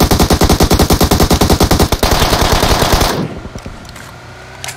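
Loud, rapid automatic gunfire in the mobile shooter PUBG Mobile rattles off in a fast, even burst of shots for about three seconds, then cuts to quieter scattered game noise.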